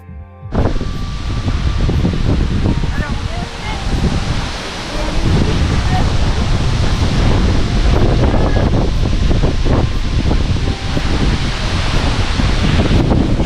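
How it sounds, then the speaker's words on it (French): Steady wind buffets the microphone at Lake Siljan, Sollerön, Sweden, a loud continuous rumbling roar that starts abruptly and persists throughout, with a rustling, surf-like wash over it. "il y a un petit peu de vent."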